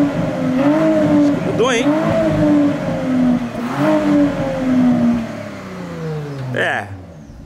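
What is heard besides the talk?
Porsche Panamera engine revving with modified exhaust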